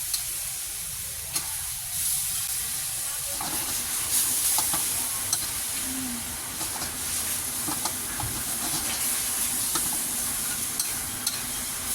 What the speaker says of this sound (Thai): ขั้นตอนนี้เราจะใช้เวลาผัดไม่นานนะครับใช้เวลาประมาณ 2 นาทีก็เสร็จ